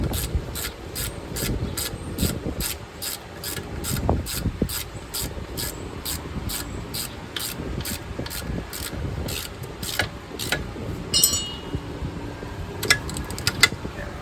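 A hand ratchet tightens a bolt on a car during wheel bearing, sway bar bushing and brake work, giving a steady run of evenly spaced clicks close up over a rough rasping background, with a few sharper clicks near the end.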